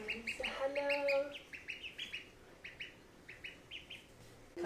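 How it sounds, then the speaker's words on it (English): Newly arrived ducklings peep in quick, high, repeated bursts close by, with a brief louder call near the start and steady chirping throughout. "Look at the ducklings, honey"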